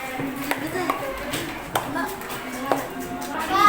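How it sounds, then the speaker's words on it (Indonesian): A few scattered hand claps from a classroom group ring out sparsely against ongoing children's and adults' chatter and room noise, never building into full applause. "oke kasih tepuk tangan"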